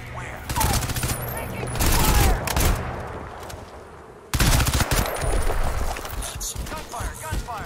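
Rapid automatic gunfire from a firefight in the PC shooter Crysis 2, loud dense bursts that cut out briefly and return, with shouted voices mixed over the shooting.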